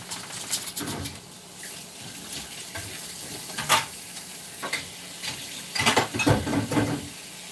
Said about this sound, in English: I'm going to go ahead and put some water on my bowls in here